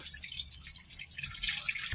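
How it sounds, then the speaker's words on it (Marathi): Cold water pours and drips over boiled vegetables sitting in a strainer, a close, continuous light trickle and splatter with no talking. "आता याच्यावर थंड पाणी टाकते"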